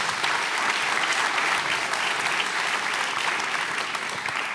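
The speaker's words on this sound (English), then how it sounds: "Let's give her a round of applause," Sustained applause from a conference audience at an international policy summit, a dense, even round of clapping that fills the hall without pause.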